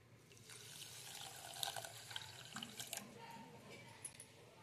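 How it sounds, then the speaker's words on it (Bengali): Half a cup of water is poured onto sugar in a kitchen to make syrup for besan sandesh, giving a faint, close splashing trickle for a few seconds under light background noise. "দিয়ে দিচ্ছি 1/2 কাপ মতো জল।"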